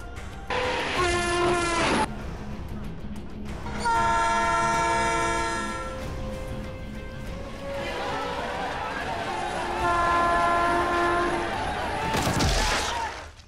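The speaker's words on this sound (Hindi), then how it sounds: "क्रांतिपुर एक्सप्रेस ओखला स्टेशन पर 11:15 पर आ रही है।" Express train pulling into a railway station platform, with loud sustained horn blasts and rumbling wagons amid station ambience; a public announcement voice speaks over it.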